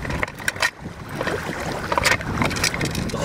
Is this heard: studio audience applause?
no